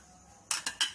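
A spoon scraping and clinking against a metal pot as pistachios are stirred into milk for kulfi, three quick close knocks after a second of quiet.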